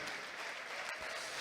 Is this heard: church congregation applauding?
yes